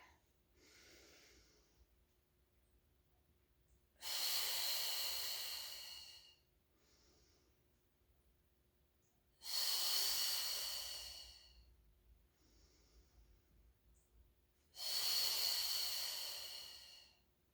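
Three long, forceful exhales during a Pilates mat class in a garage gym, each a loud close hiss lasting about two seconds, spaced evenly apart with quieter breaths and near-silence between them.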